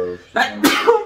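A single close, loud sneeze indoors, a short sharp inhale followed by an explosive burst, with a brief trailing voiced tail.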